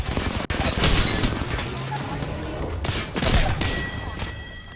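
Rapid bursts of gunfire in the battle royale game Apex Legends, dense overlapping shots and thumps running throughout at moderate loudness, with players talking over them.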